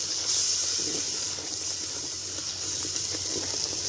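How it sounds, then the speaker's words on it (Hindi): Whole spices dropped into a hot cooking pot (handi) for aloo keema give a steady, fairly loud hiss and sizzle that runs unbroken, with no voices over it. "ये कुछ साबुत मसाले मैं अब इस हंडिया में डालूँगी।"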